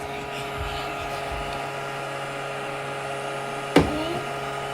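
A 3-in-1 bubble and fog machine runs with a steady mechanical hum and whir that holds throughout, interrupted near the end by one sharp click.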